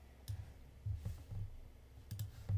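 A few soft, quiet mouse clicks on a computer, scattered sparsely and close up, clicking a follow button during app testing.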